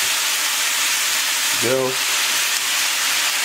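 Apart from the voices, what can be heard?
pasta with water sizzling in a pan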